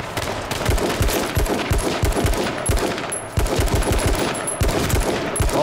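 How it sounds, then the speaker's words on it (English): Hunting rifle fire in the H1Z1 battle royale game rings out as rapid, loud, repeated gunshots in quick succession, sharp and close, with no talking. "Oh my god, he's got the hunting rifle."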